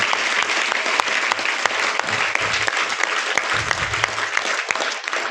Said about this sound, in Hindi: कृपया जोरदार तालियां पहले तो एक बार।